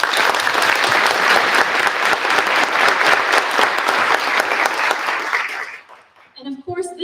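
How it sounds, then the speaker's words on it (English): An audience at an International Women's Day event claps loudly and steadily for several seconds, then the applause fades out and a voice begins speaking. "Let's give them a round of applause."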